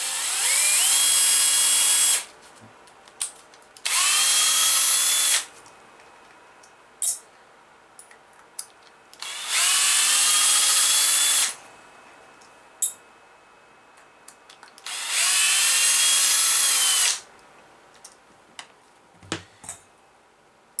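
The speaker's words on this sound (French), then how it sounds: "on va passer la petite vitesse sur la visseuse" A cordless screwdriver on low speed backs screws out of a Hobao Hyper MT 1/5-scale RC truck, giving three loud whirring bursts of about two seconds each, separated by pauses with faint clicks and handling noise.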